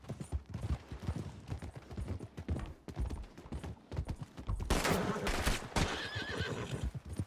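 A horse in the video game Red Dead Online snorts and whinnies while its hooves clop along, a loud neigh bursting out midway over steady hoofbeats and faint creaking tack.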